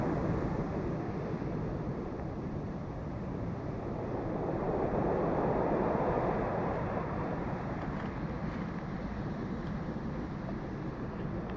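Sea surf at Vidiagu beach in Llanes, Asturias, in February: a steady, continuous wash of waves mixed with wind rumble, fairly loud and unbroken, with a slight swell in the middle and no voices.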